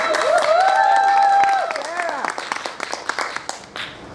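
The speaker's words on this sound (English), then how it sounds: "Give her a round of applause, please." An audience applauds a woman coming up to speak at a business talk on bookings, the steady clapping heard under a louder voice and other talk, then thinning into scattered claps near the end.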